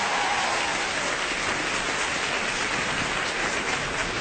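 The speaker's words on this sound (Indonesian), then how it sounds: "boleh dengar tepuk tangannya nggak?" Stand-up comedy audience in a live show breaks into dense, steady applause, a continuous wash of clapping heard close and loud with no talking over it.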